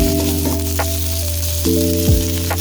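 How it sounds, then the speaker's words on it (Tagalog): Ginger and onion sauté in a pan with steady sizzling and a few soft stirring scrapes, close by, under a constant tonal hum, with no voices. "At isunod natin ang ating luya. Ang ating sibuyas. haluin lang."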